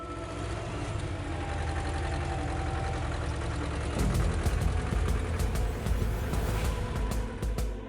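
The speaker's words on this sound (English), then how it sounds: "Engines scream against resistance" Heavy equipment and tractor engines drone steadily, then rev harder and strain against resistance, with rapid clattering bursts layered over the low, loud mechanical roar.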